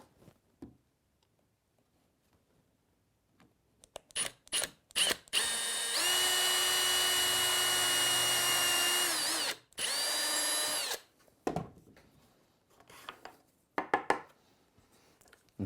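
A power drill bores into a wooden dowel held steady in a V-block for a homemade fishing lure, with a sustained high whine lasting several seconds, a brief pause, a second shorter burst, and scattered clicks and handling knocks around it.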